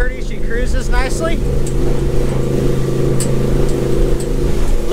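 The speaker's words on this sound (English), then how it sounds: "we are going 32 miles an hour and the boat feels nice and flat" A 2008 Four Winns SL 262 motorboat cruises at about 32 mph, its engine giving a loud, steady drone with water rushing against the hull, while a person talks over it.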